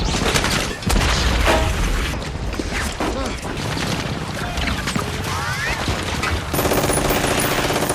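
Dense, chaotic war-film battle noise from Saving Private Ryan: rapid bursts of machine gun fire mixed with heavy explosions and crashes, loud and continuous, with a brief lull near the start and muffled shouting.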